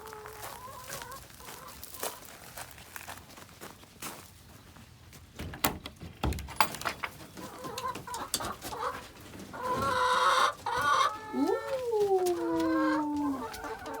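Chickens clucking and squawking close by, a scatter of short calls that builds into a louder, busier burst of rising and falling cries near the end.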